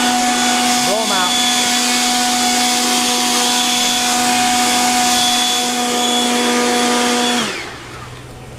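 A loud motorized blower roars steadily while clearing bees out of honey supers during harvest, its pitch dipping briefly near the start, then cutting off and winding down near the end.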